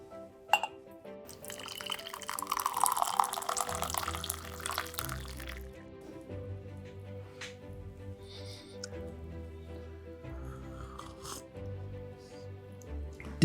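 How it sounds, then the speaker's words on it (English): Brewed leaf tea poured from a London Pottery teapot into a cup: a few seconds of liquid stream and splashing, then quiet clinks and soft handling sounds, close and without talking. "So the tea has now brewed, and I'm just about to pour."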